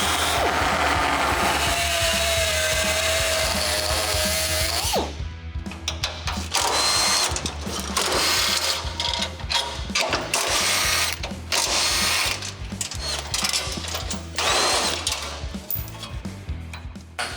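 A power tool saws through a steel Chevrolet C10 truck frame, starting as a steady loud grinding whine, then breaking into choppy bursts of cutting and clanking metal, close by with no talking.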